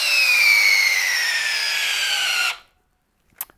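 A Ridgid drill on speed 2 drives a 1/4 by 6 inch lag screw into the end of a pressure-treated 6x6, a loud whirring whine that slowly drops in pitch under load, then cuts off, followed by a faint click.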